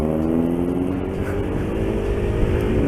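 At a car meet, a car exhaust drones steadily and loudly for a few seconds, a constant close engine rumble with no pauses.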